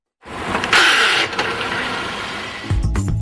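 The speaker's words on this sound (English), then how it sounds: "We'll show you what happens if you put the car in reverse gear while in motion." A car running in forward motion with its gearbox shoved into reverse, producing a loud sustained mechanical whine and grinding rasp from close by, ending in a heavy lower clunking rumble, with no talk.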